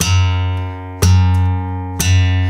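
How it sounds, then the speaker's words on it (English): Thumb slaps on the low sixth string of an acoustic guitar, three sharp percussive attacks about a second apart, each ringing into a deep sustained note, close and loud with no talking. "Slapping on string 6"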